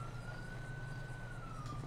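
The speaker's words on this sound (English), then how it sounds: "I hear the sirens. Oh, I see a police car there." A police siren from the GTA 5 video game wails steadily in a long sustained tone, faint and distant over a low background hum.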